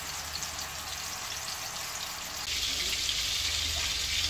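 Seekh kebabs frying in oil in a pan over low heat, a steady hiss and crackle that grows louder about halfway through and stays constant, with no talking.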